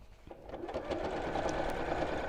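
A sewing machine runs a lengthened top stitch along a bag seam, its close, even whirring starting in short bursts and then settling into a continuous rapid hum.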